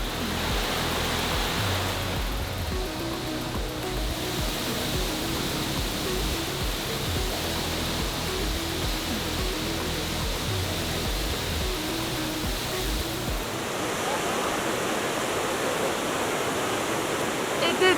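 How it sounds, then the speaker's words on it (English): A forest waterfall near Mindo, Ecuador rushes in a dense, unbroken roar of falling water, loud and close throughout. "Trail converges with the waterfall."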